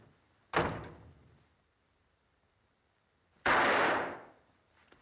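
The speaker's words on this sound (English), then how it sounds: "Open the door, Major." A door in a western film, opened with two separate bursts: a sharp short knock or latch sound, then after a quiet gap a longer loud rush as it swings, with no talk.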